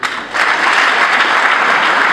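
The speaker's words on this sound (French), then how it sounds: "vos applaudissements disent quelque chose." Loud, dense applause from the audience at the closing ceremony of an international colloquium at the University of Lubumbashi, steady sustained clapping throughout with no voices.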